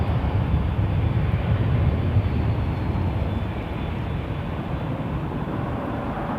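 An Aeromexico Boeing 737 MAX 9 at Toronto Pearson Airport in cold weather, a broad, steady jet roar that is loud and constant throughout, with no voices.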